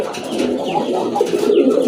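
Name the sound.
pigeon cooing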